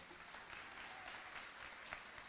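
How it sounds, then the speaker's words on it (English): A high school graduation audience claps in a steady, dense patter of applause that carries evenly through the hall at a moderate distance, with no voices standing out. "Yeah, go ahead and applaud."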